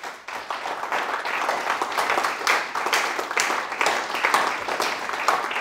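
A church congregation at a French-language sermon applauds in a steady, crackling wash of many hands clapping. It sounds moderately distant and holds evenly throughout, with no voices rising above it.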